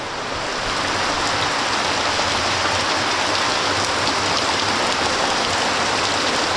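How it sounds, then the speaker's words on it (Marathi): Heavy monsoon downpour drenches a Konkan village, a dense, steady roar of rain hissing on surfaces without letup, close and loud throughout with no voices. "हे बघा असला पाऊस पडतोय"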